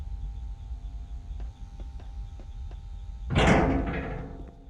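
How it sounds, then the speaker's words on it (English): An elevator door in the Five Nights at Freddy's: Sister Location game slides open with a sudden loud mechanical rush, after a quiet stretch of low hum and faint ticks. "You can now open the elevator using that bright, red, and obvious button."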